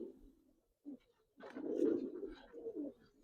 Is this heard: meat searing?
no